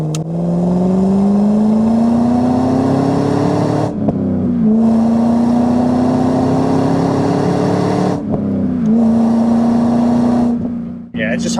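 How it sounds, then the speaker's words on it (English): A 2000 Chevrolet Camaro SS with an LS1 V8 and six-speed manual revs up hard in long pulls on fresh blacktop, dropping briefly between gears before climbing again, loud and close throughout. "Downshift again to second here. Roll into it on this fresh blacktop"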